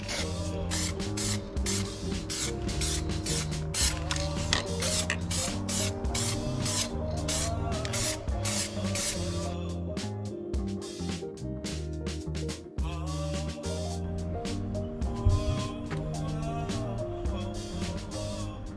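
Spray gun laying a metallic blue base coat on a car's front end, a steady continuous hiss overlaid with rhythmic mechanical ticking and humming, close and unbroken throughout.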